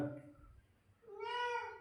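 A cat gives a single rising-and-falling meow close by, following a stretch of indistinct low voices in the room.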